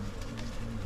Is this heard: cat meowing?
no